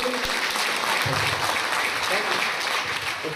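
An audience claps steadily through a business training session, a dense, continuous patter of many hands at an even level from start to finish.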